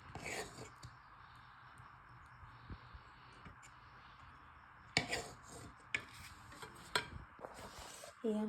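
A plate being set down in a home kitchen while rice and chicken are served for an iftar meal, a few clear ceramic clinks and clatters after a quiet stretch of faint kitchen sounds.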